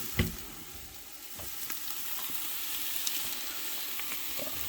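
Tomato paste browning in olive oil for an Italian gravy sauce, a steady low sizzle and fry with occasional stirring clicks and scrapes, close by and fairly quiet, with no talking.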